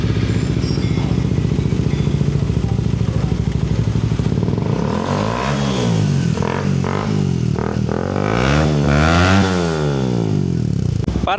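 A Suzuki GSX 150 motorcycle with a VMAX exhaust and elbow, idling loudly up close and then revved in several rising and falling bursts, with a rough, full engine note.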